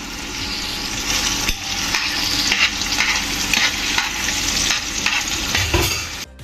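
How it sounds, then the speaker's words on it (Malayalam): Curry leaves, ginger and garlic sizzle loudly and steadily in hot oil for a Kerala-style chicken curry, with a dense continuous crackle and a few scraping stirs, no voices. "ഇനി നമുക്ക് ഇതിലേക്ക് 1 തണ്ട് കറിവേപ്പില ചേർത്ത് കൊടുക്കാം"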